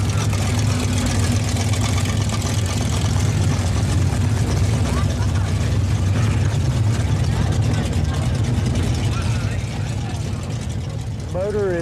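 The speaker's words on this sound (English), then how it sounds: "Motor is a 67 440 Magnum, rated at about 550 horsepower, has Predator carburetors, a NOS nitrous charge system, and a tunnel ring." A monster truck's 1967 440 Magnum V8 with Predator carburetors and a NOS nitrous system runs with a loud, rough, continuous mechanical rumble and rattling throughout, rising into a brief whine near the end.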